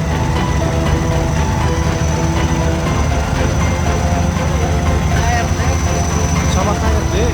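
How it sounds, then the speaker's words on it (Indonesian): A train rolls past close by, a steady loud rumble of wheels and carriages filling the whole stretch, with people talking over it. "Kereta apa ini?"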